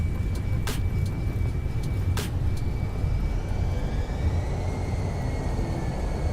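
Steady low roar from a Fenix A320 airliner applying reverse thrust on the runway after landing in Microsoft Flight Simulator, a continuous dense engine rush with a faint whining tone rising above it and a couple of brief clicks early on.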